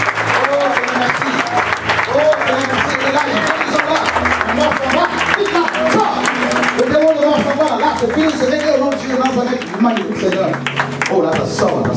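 A church congregation acclaims the Lord with loud, sustained applause and cheering that fills the room, voices shouting over the clapping throughout.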